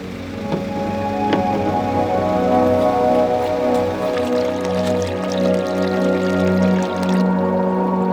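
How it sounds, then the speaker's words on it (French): Steady rain falling during a winter fishing outing, a continuous close patter on surfaces with a low droning tone underneath and no voices. "Je crois qu'il pleut."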